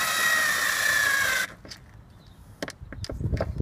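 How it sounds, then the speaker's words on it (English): A screwdriver drives a screw into a fall alert beacon mounting unit, a close whirring buzz for about a second and a half, then quiet, followed by scattered clicks and light handling knocks. "Then you screw it the rest of the way on."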